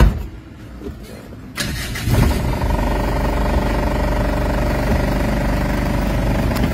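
A Mitsubishi Adventure engine with a low-rpm, weak-pulling fault cranks and catches close by, then settles into a steady, loud, throbbing idle.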